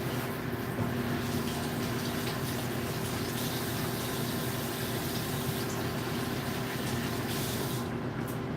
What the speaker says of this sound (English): maybe I should wash my hands up here